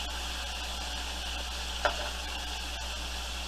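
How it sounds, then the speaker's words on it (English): Apple pork chops sear in a pan with a steady, soft sizzle throughout, broken by one brief clatter near the middle. "So let's sear up the other side"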